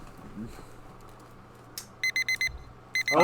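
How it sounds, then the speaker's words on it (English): An alarm clock rings in a visual novel video game: short electronic beeps come in a rapid run of four, then a further burst after a brief pause, clear over a quiet background. "alarm makes its unwelcome presence in my bedroom"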